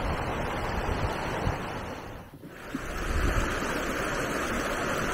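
Fast water rushes loud and close at Webster Falls, a waterfall near Hamilton, Ontario, in a continuous roar that dips briefly midway, likely with some wind buffeting the microphone.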